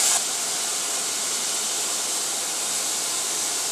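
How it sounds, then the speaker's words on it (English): Butter heats in a pan for grilled cheese, giving a steady, even, moderately quiet sizzling hiss throughout. "Now we're just getting our butter nice and hot."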